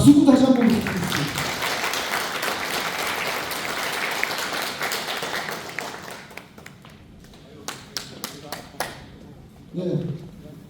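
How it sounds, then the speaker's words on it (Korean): At a Democratic Party members' rally in Cheongju, an audience applauds steadily, then the clapping fades to a few sharp isolated claps before a voice resumes speaking near the end. "박수도 다시 한번 부탁드리겠습니다"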